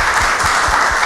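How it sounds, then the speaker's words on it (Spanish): An audience breaks into steady, dense applause, many hands clapping together close and loud for the whole moment. "Yo quisiera mandarle un aplauso a tu mamá,"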